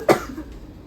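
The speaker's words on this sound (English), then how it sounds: "Okay, good cough!" A single sharp cough from a young girl after chest physiotherapy in a hospital, close and brief, followed by quiet.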